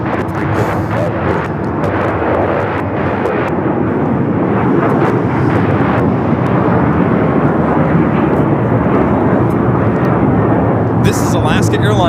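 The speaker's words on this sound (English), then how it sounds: "This is Alaska Airlines 1372 taking off to Liberia on the 737-900ER." Alaska Airlines Boeing 737-900ER taking off at LAX, a loud sustained roar of jet engines with broadband rumble building and holding steady, while a person talks over it.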